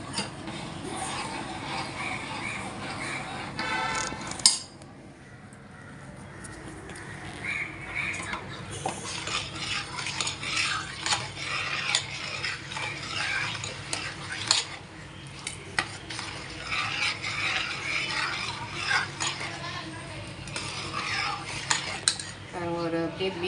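A ladle stirs Kerala wheat payasam with coconut milk in a pot over a medium flame, with steady scraping and clinking against the metal and a soft bubbling simmer underneath, close and continuous with a sharp knock near the start.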